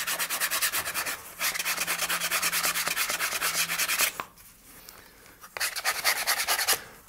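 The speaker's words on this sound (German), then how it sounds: "Wie gesagt, zuerst mit einem groben Schleifpapier." Coarse sandpaper rubs along the edges of a handmade leather hunting bag in fast, rhythmic back-and-forth strokes, with a few short pauses between bursts.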